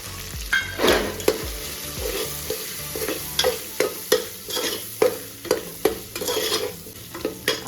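Peas and peanuts fry with dry spices in a pot for mixed vegetable masala rice, a steady close sizzle broken by regular scraping stirs and clinks of a spoon, roughly one every half second.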